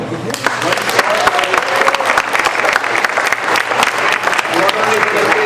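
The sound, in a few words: audience applause for children's performance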